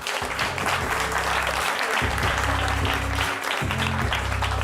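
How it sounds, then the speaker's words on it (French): A studio audience applauds on a French television show, a dense, loud, steady clatter of clapping that carries through the whole stretch over a low, droning musical backing. "On peut l'applaudir comme on l'a fait pour les autres"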